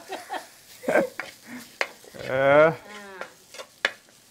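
Jaffna-style chicken curry sizzles gently in a pan while it is stirred, with scrapes and taps of a spoon, close by, and a brief bleating animal-like cry partway through.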